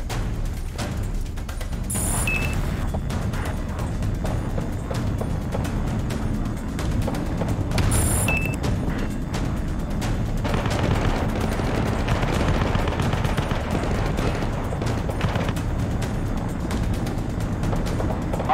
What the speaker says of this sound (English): Artillery fire inbound.